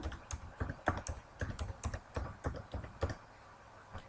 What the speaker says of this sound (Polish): Logujemy się ponownie wpisujemy nasz login